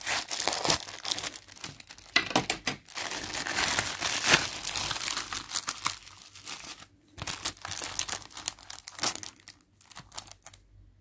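Crinkling and crumpling of a small plastic packet, handled close by in bursts of rustling with brief pauses, no talking.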